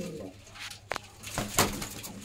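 Ringed Punjabi Malwai pigeons, brief soft coos and wing flutters close by amid light background noise and a faint voice.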